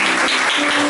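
A church congregation claps heartily for new members being received into the church, a brief, thick, continuous burst of applause filling the hall.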